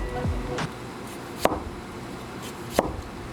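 A knife slices through a vegetable and taps onto a cutting board, three soft, evenly spaced chops rising from a quiet room.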